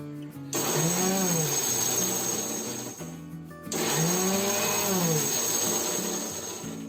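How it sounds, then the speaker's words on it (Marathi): A mixer grinder coarsely grinds fennel, cumin and ajwain seeds in two loud bursts of whirring motor noise, each a few seconds long, with a short gap between them. "मिक्सर आपल्याला आहे ना असा सरसर करून घ्यायचा आहे"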